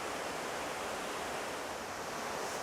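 Chisan waterfall in the Palgongsan valley pours steadily, a dense, even rush of falling water heard close and constant with no voices.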